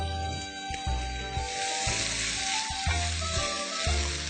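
Pork bulgogi, cooked crispy, fries in a pan with cabbage kimchi, giving a steady, close sizzle with soft stirring scrapes and a low tonal background underneath. No one speaks.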